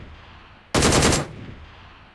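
A DP-28 machine gun in the mobile game BGMI fires one short, loud, rapid burst of about half a second that cuts in sharply, then drops back to quiet background.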